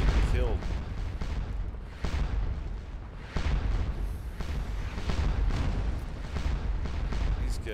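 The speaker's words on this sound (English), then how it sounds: "Guys have artillery right here." Cannon artillery fire in the Napoleonic battle game Scourge of War: Waterloo, repeated booming shots at irregular intervals over a continuous rumbling battlefield din, with someone talking over it.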